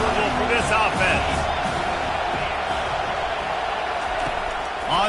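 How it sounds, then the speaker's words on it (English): Crowd noise at a college football stadium, Penn against Washington, a steady broad roar with scattered cheers and whoops under a commentator's voice. "This crowd trying to make life miserable for this offense."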